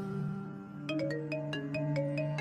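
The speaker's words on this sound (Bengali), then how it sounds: "এমন সময় ফোনটা বাজল।" A phone ringtone plays in a Bengali horror audio story, a steady melodic pattern of repeated bright notes over a sustained tone, clear and continuous for a few seconds with no talking.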